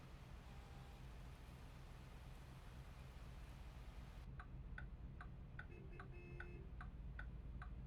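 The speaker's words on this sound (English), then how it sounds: "Let's turn on our hazards." Car hazard lights tick inside a vehicle on a road trip, a faint, steady, evenly spaced clicking that begins partway through over a low road rumble.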